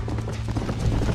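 Horse hooves galloping in the video game Red Dead Redemption, a rapid, continuous muffled clip-clop of a running horse, close and steady throughout the short stretch.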